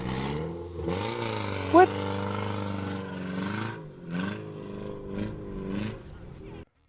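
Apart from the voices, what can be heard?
car still driving after a jump at a car jump event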